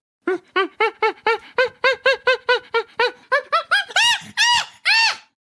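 A chimpanzee hoots in a rapid series of breathy calls that climb in pitch and build into louder, shrieking screams at the end.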